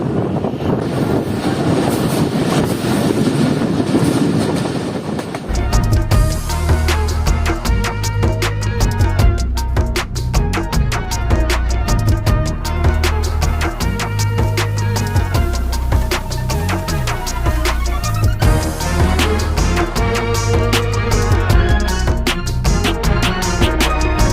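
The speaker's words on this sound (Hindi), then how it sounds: "सिर्फ ट्रेन आती है, रुकती है और चली जाती है।" The Shah Latif Express runs at speed between Mirpur Khas and Karachi, starting with soft rumbling and wind before a loud, dense clatter of wheels and carriage rattling takes over and continues throughout.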